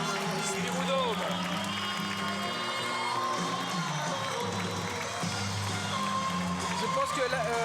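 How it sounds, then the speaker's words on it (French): A boxing night crowd at the Spiroudôme applauds and cheers after a fight is stopped, steady clapping and shouting filling the arena with commentary voices mixed in. "Les applaudissements"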